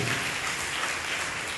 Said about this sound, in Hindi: तालियां बजा के हम परमेश्वर को धन्यवाद दें